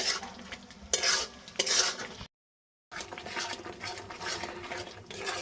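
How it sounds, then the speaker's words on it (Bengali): Onion, ginger, garlic and tomato masala for a chicken and potato curry is stir-fried in a pan over high flame, with close scraping stirs and sizzling in bursts and a brief silent gap. "এখন কিন্তু পেঁয়াজের সঙ্গে আদা রসুন আর টমেটো খুব ভালো করে কষিয়ে নিচ্ছি।"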